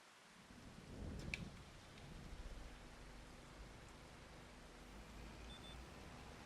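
Rain and a low rumble of thunder in a farming video game, with a broad steady wash of rainfall and a deeper roll of thunder swelling near the start before settling into a faint, even downpour.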